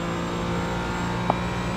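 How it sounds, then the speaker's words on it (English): A race car engine in the iRacing sim at Road America drones at a steady, fairly subdued pitch, a continuous hum with no talk and a single small click near the end. "Compared to the Mustang, the engine noise, it just seems so quiet"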